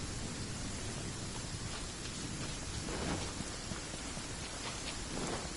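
Rain pours in the Genshin Impact video game: a dense, even hiss of a steady downpour that fills the whole stretch without pause, with no voices.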